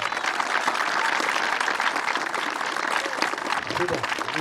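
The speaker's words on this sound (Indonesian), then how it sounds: "Mari tepuk tangan untuk Tuhan" A crowd applauds steadily throughout at an Easter church camp, dense clapping filling the room with voices mixed in underneath.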